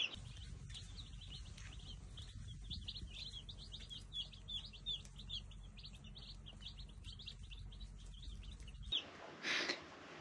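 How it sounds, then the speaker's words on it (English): Small chicks about a month old peep in rapid, busy chirps throughout, loud and close over a steady low hum, with a brief burst of fluttering near the end. "we've got little baby chicks"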